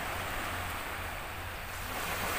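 Sea waves wash steadily against a Mediterranean shore near Mezitli, a continuous broad surf roar with wind buffeting the microphone and no talk.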